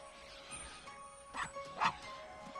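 Dogs that do not get along, barking indoors: a few short, fairly faint yips and barks in quick succession, heard at a moderate distance.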